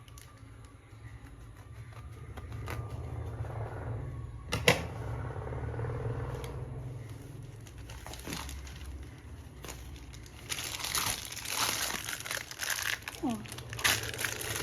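A plastic packet from a candle making kit crinkles and rustles as it is handled and opened, the crackle swelling louder toward the end. Someone speaks briefly over it, with a faint steady hum underneath.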